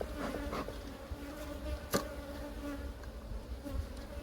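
A close, constant hum of honey bees buzzing at an open, smoked hive during inspection, with individual bees zipping past the microphone now and then.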